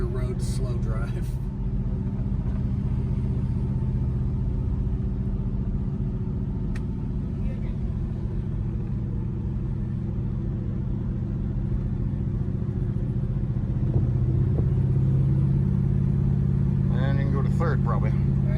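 A big-block car with a four-speed manual gearbox rolls slowly down the middle of the road, its deep engine rumble droning steadily and swelling near the end while people talk over it.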